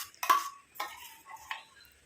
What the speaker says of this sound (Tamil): நல்லா அந்த ஸ்பூன் வச்சு லைட்டாக மிக்ஸ் பண்ணி விட்டுருங்க